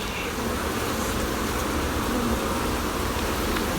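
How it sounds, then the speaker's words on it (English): A steady, even drone of many honey bees swarms over a hive frame during a hive split, heard up close without any voices. "Good many bees here."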